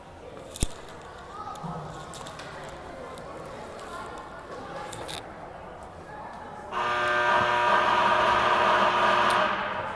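A loud ice hockey period buzzer sounds during a game, starting about two-thirds through and holding as a sustained steady drone to the end. Before it comes a stretch of arena ambience with murmured talk.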